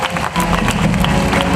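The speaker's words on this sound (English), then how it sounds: "Now give him a round of applause, isn't he awesome?" A crowd at a crocodile show at Australia Zoo in Beerwah, Queensland, gives loud, dense, steady applause mixed with crowd noise through the whole short stretch.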